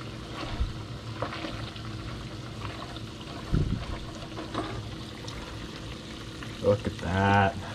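Mayonnaise frying in its own oil in a hot pan, a soft steady sizzle with a few louder pops and crackles rising near the end.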